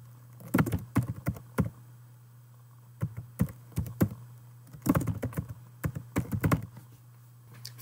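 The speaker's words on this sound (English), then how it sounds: "type your name in the entry box" Computer keyboard typing a name into an entry box, bursts of quick close key clicks in short clusters separated by pauses, over a steady low hum.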